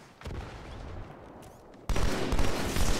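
Rapid gunfire crackles through a firefight against Covenant Elites in the Halo 2 Anniversary campaign, with softer bursts at first and then louder, denser volleys in the latter half.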